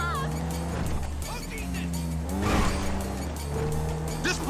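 A 140 cubic inch motorcycle in a GTA 5 chase, its engine droning with rising and falling pitch among car and tire sounds, with voices talking over it.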